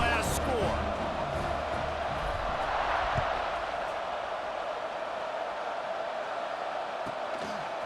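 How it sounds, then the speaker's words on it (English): A stadium crowd in College Football 26 roars with a steady, broad wash of noise after a score, loud and continuous throughout with no clear voices standing out. "this crowd is buzzing after that last score"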